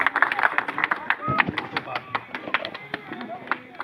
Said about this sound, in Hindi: साथियों तालियां बजाते रहो।